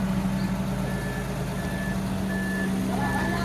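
A vehicle backs up with its engine idling, and a steady series of evenly spaced reversing beeps sounds over the low engine rumble.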